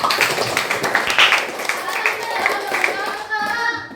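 A class of children clapping their hands in a classroom, a quick run of sharp, uneven claps close by, with young voices chattering over and after them.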